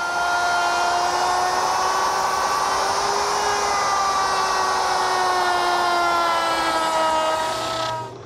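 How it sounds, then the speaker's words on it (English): A power router milling a rabbet in plywood, a loud continuous high whine with steady tones that drift slightly, cutting off at the end. "Now, I need to make one more rabbet, and that'll be in the plywood so that it'll overlap the rabbet that I already milled in the case."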